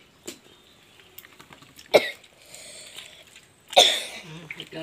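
A videographer coughs twice during outdoor goat feeding, sharp loud bursts about two seconds apart, with quieter scattered sounds between.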